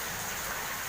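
Heavy rain pours down in Sidoarjo, flooding the street outside a house, a dense, steady hiss that fills the whole short moment with no talking.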